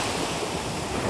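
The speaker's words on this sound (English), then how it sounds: "the wind whipping through my hair" Strong wind gusting along a lake shore, a steady broadband roar of buffeting against the microphone with waves washing underneath, loud and continuous, no voices.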